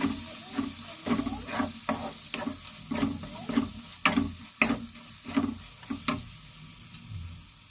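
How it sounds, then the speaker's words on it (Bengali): Spice paste of ground chilli, coriander and cumin being sautéed in a pan, with repeated spatula scrapes and stirring strokes over a steady low sizzle, close and moderately loud, no talking. "জিরে পাউডার দিয়ে ভালো করে কষিয়ে নেব মশলাটাকে"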